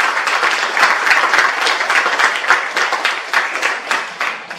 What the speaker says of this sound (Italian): un applauso per l'onorevole Rigemma.